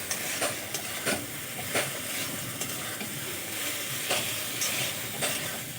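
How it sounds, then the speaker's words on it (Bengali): Fried potatoes are stir-fried in spice paste for a fish curry, a steady sizzle punctuated by regular scraping strokes of a spatula against the pan. "আলুগুলো দিয়ে আরও ভালো করে আমি কষিয়ে নেব"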